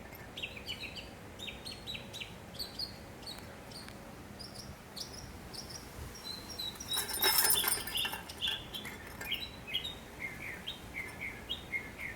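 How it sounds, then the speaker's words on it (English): Birds chirp and trill repeatedly against a quiet outdoor background, with a louder burst of calls partway through and brief rustling. "them birds were singing pretty loud"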